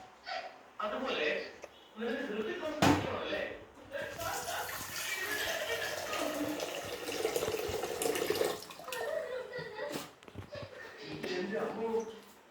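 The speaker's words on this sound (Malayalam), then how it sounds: "കുറച്ച് വെള്ളം ഒഴിക്കാം." Water pours in a steady splashing stream for several seconds, with people talking before and after it.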